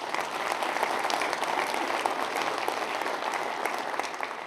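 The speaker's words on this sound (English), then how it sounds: "Let's give them a big round of applause." Sustained applause from a large audience at an organizational talk honoring centenarian members, dense steady clapping that stays loud and even for the whole stretch with no voices over it.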